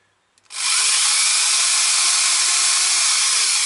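A loud, steady power tool whine starts abruptly and runs without a break, heard while screws are being tightened on a petrol string trimmer; no one speaks.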